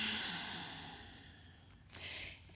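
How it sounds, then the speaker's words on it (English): Yoga breath pushed out through the nose with a soft, snore-like rasp. It starts fairly clear, fades into faint noise, and ends with a brief louder puff near the close, all quiet and close to the mic. "On the exhale, we have this snoring sound."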